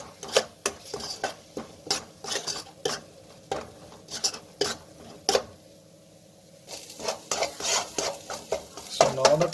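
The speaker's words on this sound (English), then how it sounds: "and mix well." Semolina being stirred into green chilli halwa in a pan: rhythmic scraping strokes of a spoon against metal, repeated clinks with soft sizzle underneath, close and clear, no talking.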